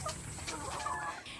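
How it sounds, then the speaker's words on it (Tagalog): Chickens clucking at a poultry farm in a barangay in the Philippines, a short burst of overlapping clucks and squawks heard up close without speech. "Tanawa mo manok."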